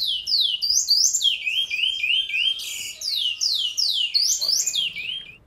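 A great-billed seed finch sings a rapid, continuous song of bright, sweeping whistled notes, clear and close, with no talking.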